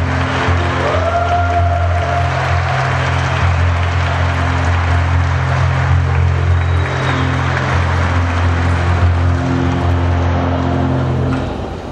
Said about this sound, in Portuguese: com nossas palmas. Vamos acolher este novo casal, Maurício e Letícia.